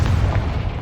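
A Confringo fire spell bursts in the video game Hogwarts Legacy as a short, heavy, close boom with dense low rumble throughout.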